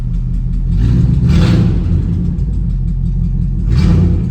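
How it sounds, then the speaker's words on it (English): LT1 V8-swapped Mazda B4000 pickup engine running with a misfire, a steady loud low rumble broken by sharp popping bursts from the exhaust around the middle and near the end. "it sounds like I got a miss out of the exhaust, like a popping"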